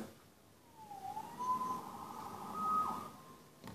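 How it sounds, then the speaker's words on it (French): A police siren in the video game Spider-Man on PS4 wails with a long rising and falling tone, moderately distant, over a low background rumble. "Sauvé par les sirènes."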